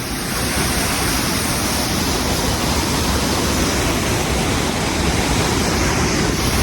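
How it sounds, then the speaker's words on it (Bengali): A waterfall pours over rocks in a hill setting at Jangpana, a loud, dense, unbroken roar of rushing water close by, with no other sounds standing out. "এখান থেকে ঝর্ণা জলটা পুরো পড়ছে, এই দেখো।"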